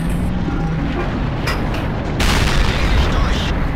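In World of Tanks, a tank cannon fires a loud booming shot that cuts sharply into ongoing in-game rumble and noise, followed by a sustained blast-like roar.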